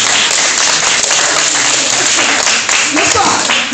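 Crowd applause at a cobra show, dense continuous clapping from many people, loud and close, holding steady throughout with faint voices mixed in toward the end.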